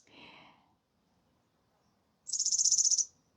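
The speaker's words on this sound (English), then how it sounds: "There is a bird sitting up there and just like proclaiming" A bird calls from up in a tree, a single bright, rapid trill of about three-quarters of a second standing out clearly over quiet outdoor background, preceded by a brief softer rustle.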